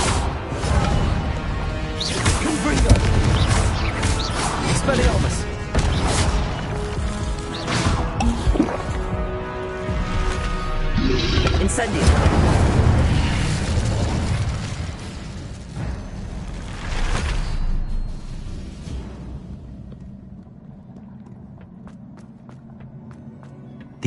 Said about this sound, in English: Repulsor. Confringo. Expelliarmus.